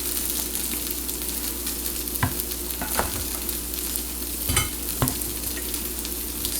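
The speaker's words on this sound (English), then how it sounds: "we're just gonna spread a very thin layer of pinto beans" Refried pinto beans cooked with onions, spread in a very thin layer with a utensil: a soft, continuous scraping under a low steady hiss, broken by a few sharp clicks and taps.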